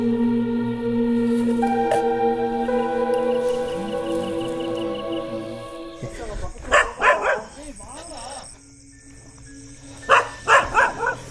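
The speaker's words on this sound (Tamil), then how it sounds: "நீங்க பேசின சேம் டைம்ல நாய் குறைச்சது ப்ரோ." Dog barking at night during a Halloween outing near a burning site: several sharp barks in two short bursts, close and loud, following a stretch of steady droning background.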